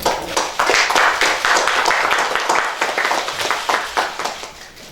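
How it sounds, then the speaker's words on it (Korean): A room of people at a political party leadership meeting applauds together, a dense, loud, sustained burst of many hands clapping at once that carries on for several seconds without pause. "모두 박수로"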